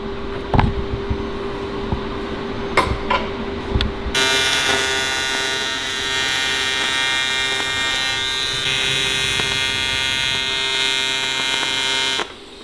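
A TIG welder hums with a low steady tone, then switches to a loud, harsh electrical buzz that holds evenly for about eight seconds before cutting off.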